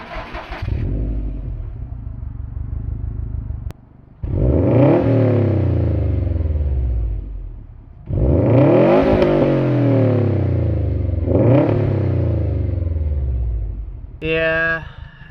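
A 2018 Subaru STI with an aftermarket catback exhaust starts up close and loud, then revs three times in long rising and falling sweeps with a low burbling idle between them.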